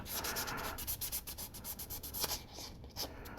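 Steady close-up rasping of a flexible sanding file scraping back and forth in short rhythmic strokes while cleaning up a 1/8 scale figure kit, with no voices.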